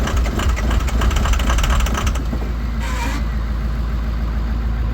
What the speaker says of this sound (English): Let it run on the starter a little bit